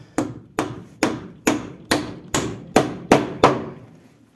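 Hammer blows drive nails into wooden boards while building a sauna anteroom, eight sharp, evenly paced strikes about half a second apart, close and loud, each ringing briefly, with no talking.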